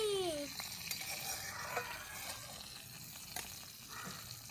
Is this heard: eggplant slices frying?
yes